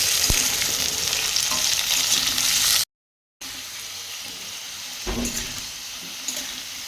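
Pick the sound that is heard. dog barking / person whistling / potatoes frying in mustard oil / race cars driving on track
potatoes frying in mustard oil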